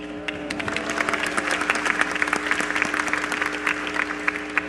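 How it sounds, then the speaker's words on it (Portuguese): A crowd at the Humanidade 2012 infrastructure and sustainability event claps for a speaker, with sustained, even applause that holds for about five seconds, close and full, no voices over it. "Uma salva de palmas para o Fábio agora."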